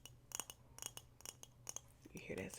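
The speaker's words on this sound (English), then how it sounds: "It sounds like fingers clicking against glass." Fingers tap and click against glass in a sequence of crisp, separate light clicks, faint and close, before a voice starts to speak near the end.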